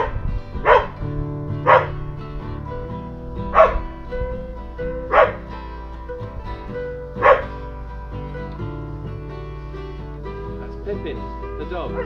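A dog in a garden barks about five times at uneven intervals, loud and near, over sustained guitar chords and some talk.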